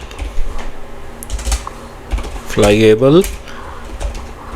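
Rapid keystrokes as Java code is typed on a computer keyboard: irregular clicks close and clear, with a short burst of voice in the middle.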